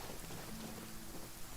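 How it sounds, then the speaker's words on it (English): Rain falls steadily in a video game, a soft continuous patter with a low rumble underneath and no voices. "Yeah, I think it's just raining."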